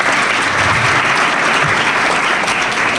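A school audience applauds a student topper, giving dense, loud, continuous clapping from a crowd that stays even and sustained throughout.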